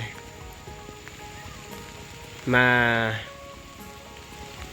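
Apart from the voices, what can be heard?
rain falling on rural farmland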